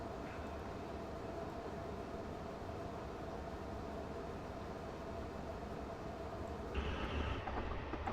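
A train rolls along in Train Simulator Classic with a steady low rumble and rhythmic wheel clatter, continuous and moderately loud, swelling slightly near the end without any talk.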